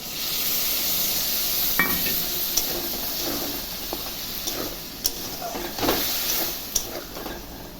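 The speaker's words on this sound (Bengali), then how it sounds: "বাটা মশলাটা দিয়ে দিচ্ছি" Ground spice paste going into a pan of paneer curry, giving a steady soft sizzle and hiss with a few light clinks of a utensil against the pan.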